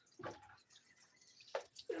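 Water is poured into a tank holding catfish fingerlings, heard as a few separate splashes and pours with quiet gaps between them, close by and fairly soft.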